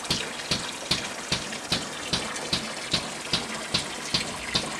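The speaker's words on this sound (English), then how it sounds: "through the 3/4 inch hose to the air diaphragm pump" An air diaphragm pump pushes oily water through a 3/4 inch hose into an oil water separator, making a rhythmic gushing splash that pulses about twice per second, steady and fairly loud.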